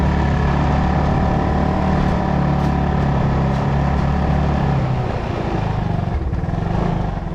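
A motorcycle engine runs steadily the whole time, a loud, continuous low drone with a constant hum and no pauses or voices.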